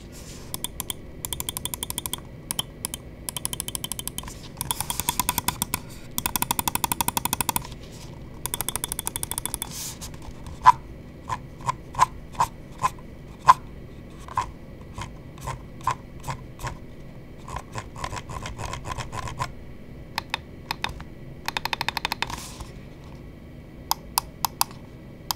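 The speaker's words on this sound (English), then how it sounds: "let's go ahead and drop the click and quality sound check." A Hitscan Hyperlight computer mouse is clicked up close in a quiet room, with rapid rattling bursts of clicks alternating with slower, evenly spaced single sharp clicks.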